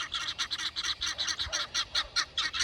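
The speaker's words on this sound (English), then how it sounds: "Guineas." Guinea fowl calling outdoors on a farm: a rapid, rhythmic run of harsh, repeated squawks, about a dozen in under three seconds, moderately distant and steady, with no talking.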